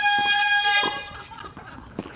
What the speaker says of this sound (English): Jamie Murray, accompanied by a foghorn.